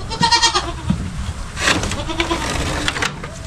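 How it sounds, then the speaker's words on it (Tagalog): Goats on a farm bleating close and loud, several wavering cries in quick succession with farmyard noise between them. "Ayun yung kambing mga kabady."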